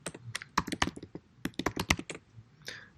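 Fast typing on a computer keyboard, close and clear, a quick burst of crisp key clicks and clacks with brief pauses and no talking.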